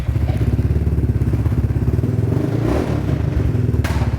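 Piaggio Beverly BV350 scooter with a Malossi performance exhaust, idling close by with a rapid, rhythmic thumping burble and a slight rise in revs near the end.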